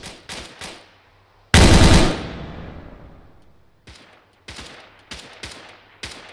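Gunfire in the military game ARMA 3: a few sharp shots, then a loud heavy blast with a long rolling echo, followed by a string of scattered single reports, with no talk over it.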